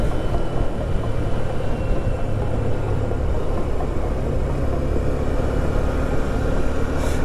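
A Honda CB125F motorcycle riding along a road produces a steady, continuous drone of engine and wind rumble throughout, heard up close and without speech.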